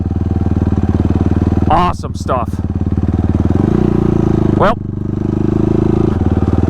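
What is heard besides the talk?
Yamaha YFZ ATV engine running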